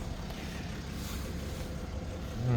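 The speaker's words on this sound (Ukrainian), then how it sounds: "Гідроборд працює без проблем." The hydraulic tail lift on a 2015 Mercedes Sprinter 3.0 refrigerated van runs with a steady, loud mechanical whir and rushing noise that holds evenly throughout, with a low tone rising near the end.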